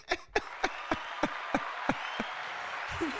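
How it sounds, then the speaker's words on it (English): A few sparse, evenly spaced hand claps ring out close by, seven or eight slow beats that taper off into room noise during a talk show discussing Carnival ticket prices. "That deserves 2 rounds of applause, right?"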